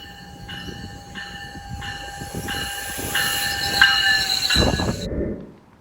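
GO commuter train near Toronto rolling on rails, loud and close, with a steady rumble, high squealing tones building, and a sharp burst near the end before it cuts off.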